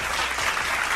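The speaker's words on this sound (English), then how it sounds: "Clap it up for him." Steady applause from a livestream audience cheering a member, a dense, continuous wash of clapping lasting about a second with no gaps.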